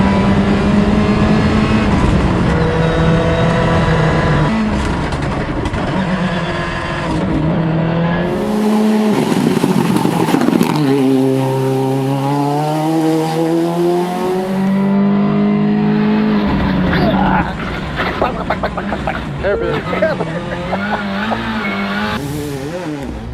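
A Ford Escort Cosworth rally car driven fast up a gravel stage, engine revving hard through the gears with rising and falling pitch, loud and close from inside the car, with tire and gravel noise and no talk.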